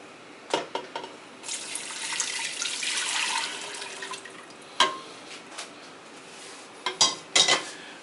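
Warm milk is poured into a pan of flour for baked macaroni and cheese, a soft liquid pour with a few sharp clinks and taps of metal cookware close by.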